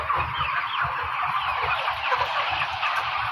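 Broiler chickens crowd a farm shed, a dense continuous murmur of clucking and chattering birds close at hand, with no talk over it.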